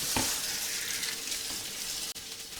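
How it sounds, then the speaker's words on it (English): Tap water runs steadily over apples being rinsed in a sink, a constant close hiss with a brief splash near the start and a short break near the end. "Then we're going to thoroughly rinse our apples"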